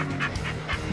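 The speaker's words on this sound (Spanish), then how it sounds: "Mira, mira qué perro, qué perrilla más chula que no me he encontrado aquí abandonada." An abandoned female dog found beside a road pants in quick, rhythmic breaths, close by against a steady background hum.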